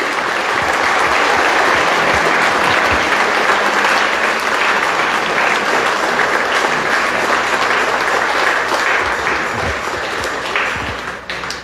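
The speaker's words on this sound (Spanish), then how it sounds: "Pido a todos lo recibamos con un fuerte y caluroso aplauso." Congregation in a parish church gives a strong, warm round of applause, loud and sustained with many hands clapping, tapering off slightly at the very end.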